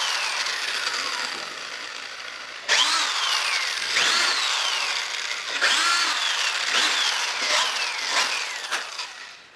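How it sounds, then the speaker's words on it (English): Power drill running in reverse on screws in a wooden workbench, a loud whirring motor with repeated rising and falling pitch sweeps as the bit engages, close and without talk. "Throw the drill in reverse, make the holes for the head."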